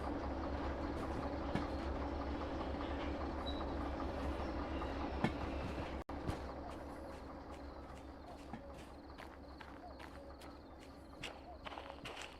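In the Derail Valley train simulator, a locomotive and railcar rumble at close range with a low steady drone, a sharp clunk midway as they are coupled, and scattered clicks and footsteps afterward.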